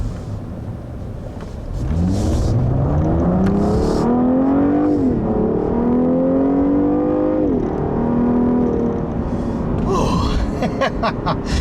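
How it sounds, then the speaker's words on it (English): 2014 Cadillac CTS V-Sport twin-turbo V6 accelerating hard from inside the cabin, engine pitch climbing steadily through gears with brief dips at each shift, loud and continuous, with no talking. "let me show you just how amazing this new twin-turbo straight or V6 is."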